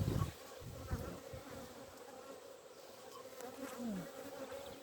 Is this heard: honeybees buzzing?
yes